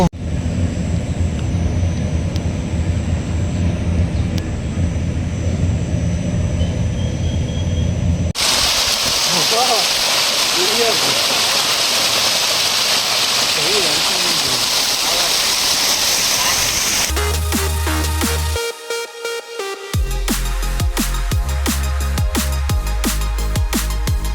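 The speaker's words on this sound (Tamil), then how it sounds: "ஃபுல் ஃபோர்ஸில் தண்ணி போயிட்டுருக்கு." Water rushes at full force at a waterfall in Munnar, a loud continuous roar that shifts in character partway through, with voices briefly audible.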